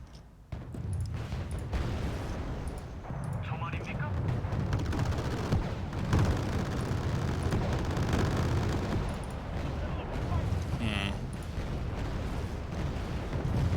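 Warships firing Harpoon missiles in the Wargame Red Dragon video game: dense, rumbling launch blasts and booming fire that continue without a break, with occasional sharper cracks and a voice talking over them.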